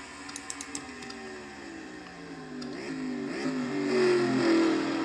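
Race car engine in a NASCAR Nationwide Series racing video game at Road America, revving and climbing through the gears with rising harmonic whine, accelerating steadily and growing louder toward the end, with a few brief clicks early on.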